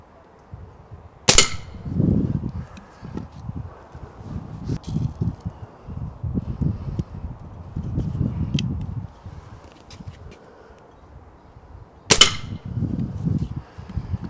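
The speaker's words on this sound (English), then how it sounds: "it was just a little 177 air pistol" Two sharp shots from a small Webley .177 air pistol, one near the start and one near the end, each a crisp snap over a quiet outdoor background with soft rustling and handling noises in between.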